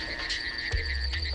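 Frogs calling at night after rain as they emerge from hibernation, a steady chorus of bright repeated trills and croaks holding at a moderate distance, with low rumbling in the background.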